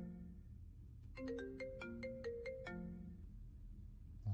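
A mobile phone in an Indonesian horror game rings with a short melodic ringtone, a quick run of bright electronic notes, clear and alone.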